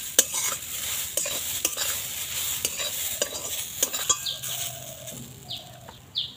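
Papaya is stirred in a pan over low heat, repeated scraping strokes of a spoon against the pan over a soft sizzle, with faint chirps in the background.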